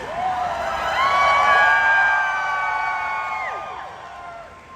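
A large fan convention crowd at Dallas FanExpo whoops, screams and cheers wildly for a group selfie with Brendan Fraser. Many overlapping high voices swell, then gradually ease off.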